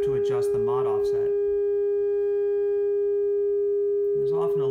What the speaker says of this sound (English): as we increase the amplitude, we start to get a sine wave